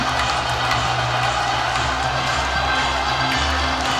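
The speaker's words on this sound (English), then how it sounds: "The crowd are woken up again." Basketball arena crowd at a women's FIBA Asia Championship semi-final between Japan and Chinese Taipei, a steady roar of cheering with scattered clapping throughout, dense and sustained.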